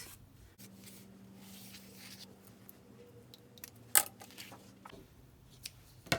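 Scissors cutting fabric for a sewing project's Christmas stocking, a few quiet snips and crisp cuts over a low steady hum, close and soft.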